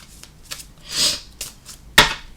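Brief papery swishes and soft riffles of tarot cards being shuffled by hand up close, ending with a sharper snap as the deck settles.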